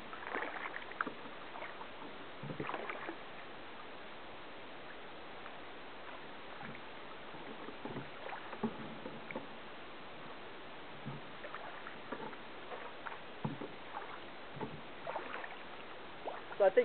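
Kayak paddle strokes in a narrow Everglades creek while moving backwards and side slipping, giving soft intermittent splashes and drips over quiet water, fairly faint and close.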